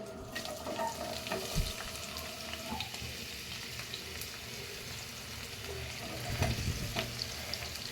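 Onions dropped into two spoons of hot oil for an egg curry, sizzling softly and steadily with occasional clinks and stirring knocks, fairly faint.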